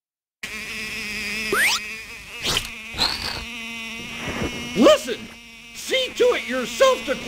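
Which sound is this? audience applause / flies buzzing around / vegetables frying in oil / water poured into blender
flies buzzing around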